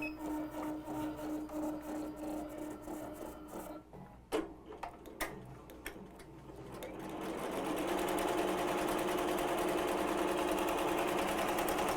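An embroidery machine stitches the border of an appliqué design, starting with rhythmic tapping and a few sharp clicks, then settling into a dense, steady whirring hum of rapid stitching at close range.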